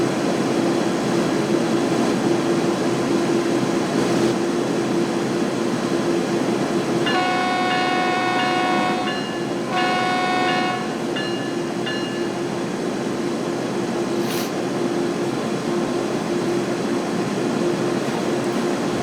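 A BNSF ES44C4 diesel freight locomotive hauling containers through Cajon Pass from Barstow to Victorville in Train Sim World 3, a steady rumbling drone with a loud horn blast sounding midway and a brief whistle-like tone later, no talk.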